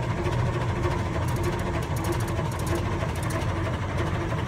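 A 1912 Cadillac engine idles steadily with a low, even chugging rhythm, close and continuous throughout with no talk.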